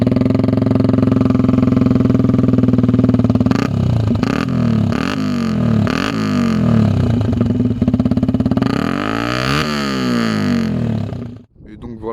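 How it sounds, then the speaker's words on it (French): A Yamaha WR125X motorcycle with a Black Mido full exhaust line idles loudly nearby, then revs in several sharp throttle blips and a longer rising rev before cutting off abruptly near the end. "Je vais aussi vous montrer le son de ma moto avec la full ligne Black Mido"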